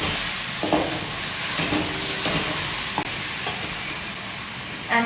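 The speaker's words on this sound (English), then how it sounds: "Starting to stick now." Chicken cutlet mixture fries in a hot pan with a loud, constant sizzle, broken by occasional scrapes and clicks of stirring as it starts to stick.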